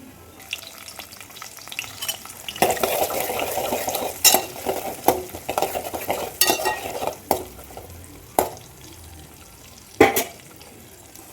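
Cumin, fenugreek and other spices crackle and sizzle in hot oil for fish curry, with a spoon stirring and scraping against the pan in irregular clinks.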